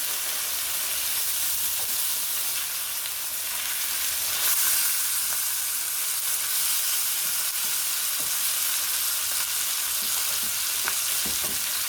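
Meat shoulder sizzling steadily in a skillet for a one-pot lasagna, a continuous bright frying hiss with small pops and occasional stirring scrapes, close and even throughout.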